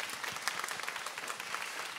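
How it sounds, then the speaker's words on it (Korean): An audience at a Korean talk concert applauds warmly. The clapping is dense and steady and fills the room for the whole moment. "여러분 따뜻한 박수 부탁드릴게요"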